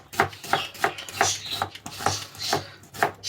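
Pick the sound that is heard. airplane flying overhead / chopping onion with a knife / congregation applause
chopping onion with a knife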